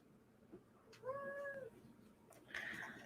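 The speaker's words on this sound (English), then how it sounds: "The cat is making all kinds of noise, because that's what they do." A single drawn-out cat meow, fairly faint against a quiet room background, followed by a brief soft rustle.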